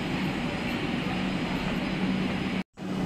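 A Kolkata metro train running underground past the platform on the underwater line, a loud continuous rumbling roar that cuts out abruptly near the end before briefly resuming.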